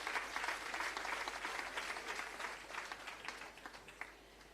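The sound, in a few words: audience applause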